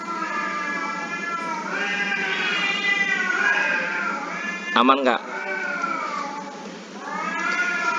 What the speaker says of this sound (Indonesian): Kucing siapa yang kelahi?